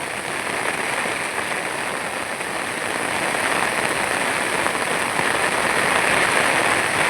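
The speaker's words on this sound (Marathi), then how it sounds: "तर आता पाऊस पण मित्रांनो जोरात आला खूप" Heavy rain pours steadily onto a creek during fishing in the rain, a dense, even hiss of drops close by that holds for the whole stretch without pause.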